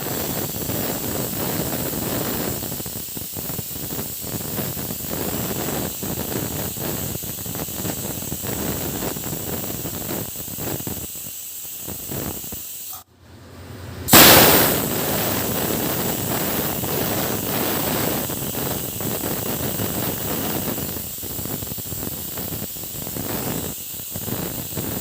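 A pressure cooker of mutton gravy, made without onion or tomato, lets out a loud, steady hiss of escaping steam that runs almost continuously, broken only by a short pause partway through before resuming at full strength.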